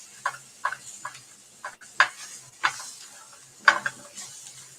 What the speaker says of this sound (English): So we just want to saute this up